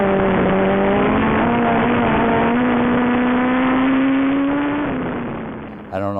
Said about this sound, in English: Shane Lasky, former Wayzata Mod 4 champion, drove the 6J Legend car